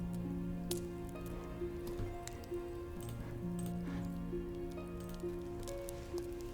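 Steady rain falls on a riverbank, a soft continuous patter with scattered drop ticks, faint and even throughout beneath a low sustained tonal drone.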